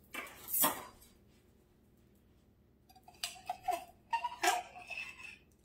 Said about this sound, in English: So I'm going to grab a knife or a spoon, whatever I get to first.